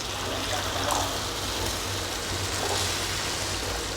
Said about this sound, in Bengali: জলটা আমি গরম করে রেখেছিলাম, গরম জল আমি মিশিয়ে দেব।